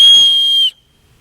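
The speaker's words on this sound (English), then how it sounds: "We have a very small whistle with a star on it," A very small hard-plastic survival whistle with a star on it gives one loud, shrill, steady blast lasting about two-thirds of a second, then cuts off abruptly to silence.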